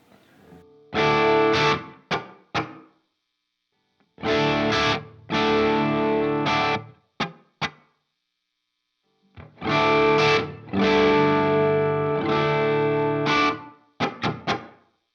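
Distorted electric guitar through a Strymon Iridium on its small room reverb setting plays loud chords and short stabs in bursts separated by silence, with a short, tight ambience fading quickly after each stop.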